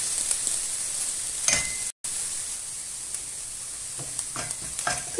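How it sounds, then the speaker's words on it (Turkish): Peppers fry in hot olive oil in a pan as a spoon stirs them, giving a steady close sizzle with occasional scraping clicks and one brief dropout. "kızarınca biberlerimizi ekleyeceğiz. Onlar da güzelce kızarsınlar."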